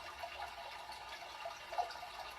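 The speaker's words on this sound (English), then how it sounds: "You're focusing way too much on the moving water." Moving water runs and trickles steadily near a spot where a cat watches for fish, a soft, continuous wash of flowing water with small bright splashes, fairly faint and heard alone.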